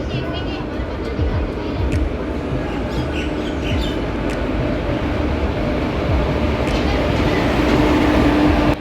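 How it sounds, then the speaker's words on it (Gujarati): Train hauled by WAP4E electric locomotive 22353 rolls into Sabarmati Junction, a steady loud rumble of wheels and carriages with faint clatter and squeal throughout, heard close from on board. "હવે મારી ટ્રેનનું અરાઇવલ કમ્પ્લીટ થવા જઈ રહ્યું છે સાબરમતી જંકશન પર"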